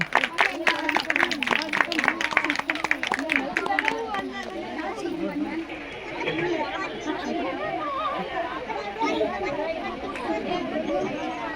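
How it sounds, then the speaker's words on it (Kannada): An audience claps and chatters to welcome a woman singer at a community cultural programme. Dense applause in the first few seconds fades into a steady crowd murmur. "ಯುವರಾಜ ಚಪ್ಪಾಳೆ ಮೂಲಕ ಅವರನ್ನು ಬರೆಮಾಡಿಕೊಳ್ಳೋಣ"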